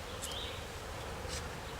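Angry honeybees buzz in a steady, dense drone around an open hive, with a few individual bees passing close by.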